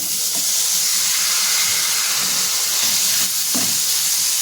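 Pre-cooked vegetables tipped into a hot pan of oil with ground coriander and cumin powder, giving a steady, loud frying sizzle and hiss throughout, with a few faint stirring clinks and no speech.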